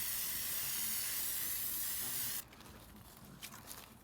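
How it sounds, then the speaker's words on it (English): Amsoil Mudslinger protective spray hisses loudly and steadily from a nozzle onto a vehicle's underside for about two seconds, then cuts off, leaving quieter handling noises. "I'm gonna spray the Mudslinger up here as well."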